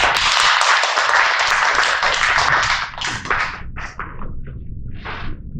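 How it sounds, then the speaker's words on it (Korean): A lecture audience applauds a guest professor taking the stage for a humanities talk. Loud, dense clapping from a close crowd fills the first three seconds, then thins into scattered individual claps before a final few. "김민희 교수님 저희 박수로 모셔볼까요?"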